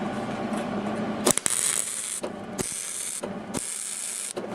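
MIG welder running on thin automotive sheet metal that keeps burning through: a steady crackling, sizzling buzz in several bursts, cut by short pauses between passes, loud and close.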